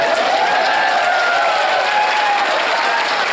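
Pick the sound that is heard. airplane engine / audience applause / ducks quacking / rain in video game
audience applause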